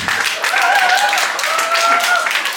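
A wedding crowd at a clubhouse gives loud, sustained applause after the newlyweds' first dance. Dense clapping fills the room throughout while a voice talks over it.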